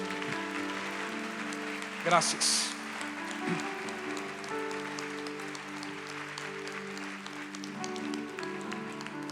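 Church congregation clapping for the King of Kings at the close of a Spanish-language talk, a short round of applause swelling briefly then settling beneath steady room noise, with someone speaking over it.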